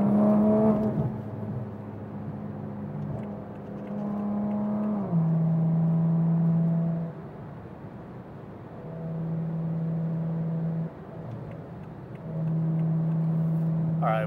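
A Toyota MK5 Supra with a built ZF8 transmission accelerates on a highway, its engine note climbing in steady rising steps with quick shift breaks between them, loud and close from inside the cabin.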